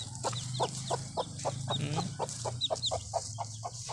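A large chicken with a bald head clucks in a quick, even run of short clucks, about three or four per second, close but soft over a low steady background hum.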